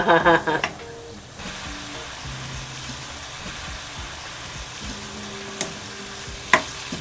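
Perilla and sesame oil sizzle in a pot for seaweed soup, a steady soft frying hiss throughout, with brief voices at the start and a couple of sharp utensil taps later.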